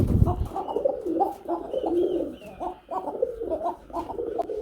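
Danish pigeons coo steadily in a repeating, rolling rhythm, several birds overlapping at close range with faint chirps behind them and no talk.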